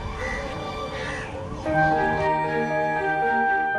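Crows cawing at Budha Talab in Raipur, several harsh overlapping caws repeating close by and loud, with no talk over them.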